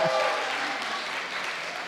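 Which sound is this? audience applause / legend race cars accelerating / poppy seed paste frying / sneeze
audience applause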